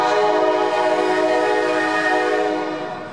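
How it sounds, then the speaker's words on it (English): A loud, sustained train horn blasts steadily over the rumble of a train arriving at the Millen, Georgia rail terminal, slowly fading toward the end. "And here comes a train."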